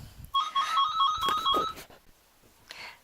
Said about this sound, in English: My phone rang and I had to pause it.